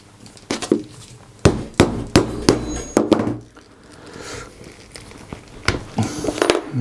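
Hole in a two-layer leather belt being widened with a punch, a string of sharp close knocks and thuds in uneven rhythm with faint crinkling scrapes between strikes.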